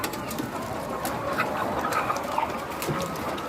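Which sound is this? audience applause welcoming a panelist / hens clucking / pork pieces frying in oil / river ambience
hens clucking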